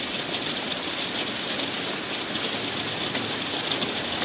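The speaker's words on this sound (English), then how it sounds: "We had a little bit of rain in the early hours of this morning, but it really started up as we came into the morning." Steady rain pours down during Storm Bertha, an extratropical storm in the UK in August, as an even, continuous hiss of falling drops with occasional pattering hits on a surface.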